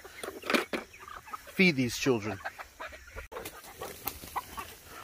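Bantam chickens such as D'uccles and frizzles cluck in a garden chicken pen, a burst of clucks standing out near the middle while a person talks over the birds throughout.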